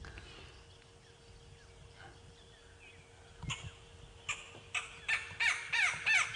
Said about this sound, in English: you can hear some apalices in the background there going chicka chicka chicka